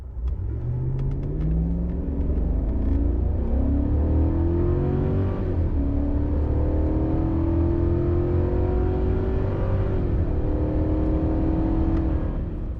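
Dual cab ute accelerating hard while towing a dyno trailer with a 3 kilonewton load, a loud close engine drone that rises steadily in pitch through the gears, with a brief dip at a shift, no talk.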